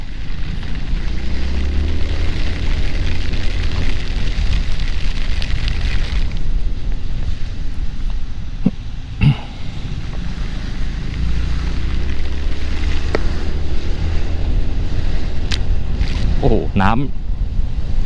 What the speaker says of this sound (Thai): น้ำโอ้โหมันมันระบายไม่ทันทุกคนมันตกหนักมาก